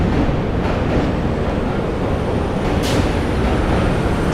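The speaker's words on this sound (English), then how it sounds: "Train is, of course, coming over Manhattan Bridge." Subway train rumbling across the Manhattan Bridge in New York City, a steady broadband roar that holds for the whole stretch with a brief metallic squeal near the end.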